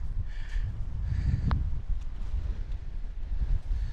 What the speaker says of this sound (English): before that wind gets worse